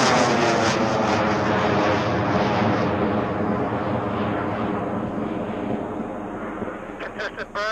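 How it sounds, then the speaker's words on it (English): A UBC student rocket engine ignites at a Launch Canada launch and roars loudly, a dense, ragged rumble that fades gradually as the rocket climbs away, with a voice speaking over the noise. "Countdown in 5, 4, 3, 2, 1. Ignition."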